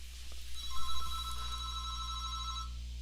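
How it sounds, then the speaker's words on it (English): Telephone ringtone in a room, a sustained bright electronic warble lasting a couple of seconds over a low mains hum, moderately loud with a few soft knocks and no talking. "the phone's going off here"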